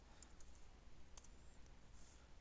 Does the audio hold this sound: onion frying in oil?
no